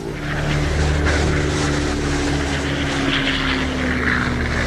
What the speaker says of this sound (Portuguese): um grupo de aviões da Luftwaffe é localizado